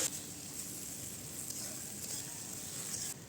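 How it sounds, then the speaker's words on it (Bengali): Onions and green chilies frying in oil in a pan before spinach is added, a steady, faint, even sizzle throughout with no talk. "এর মধ্যে আমি পেঁয়াজ কাঁচামরিচ তেল দিয়ে দিলাম পালং শাক ভাজার জন্য"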